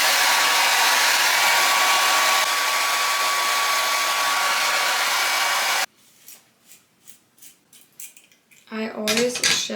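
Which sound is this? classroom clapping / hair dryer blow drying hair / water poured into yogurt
hair dryer blow drying hair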